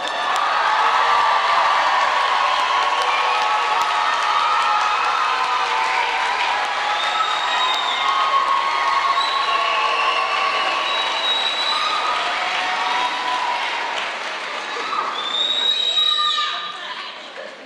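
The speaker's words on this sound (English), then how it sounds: "Do you want to cheer now? Just get it out of your system," A graduating class and audience at a girls' school commencement ceremony break into loud, sustained cheering, shrieks and applause that fill a large hall for over fifteen seconds before fading out.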